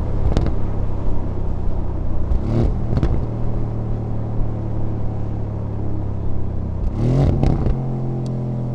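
An Aston Martin V8 Vantage engine rumbles steadily nearby, with two loud throttle blips that rise and fall, one early and one near the end.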